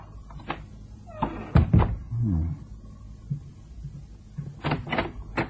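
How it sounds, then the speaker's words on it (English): In a radio drama, a door is pushed open with a creaking wooden squeak and a few knocks and thumps, close and fairly loud among quieter shuffling. "The door's open."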